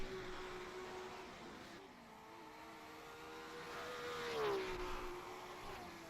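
A BMW E21 and a Ford Capri race car drone through the Norisring circuit, their engines a sustained, moderately distant roar that rises and swells as they pass, with no voices over it.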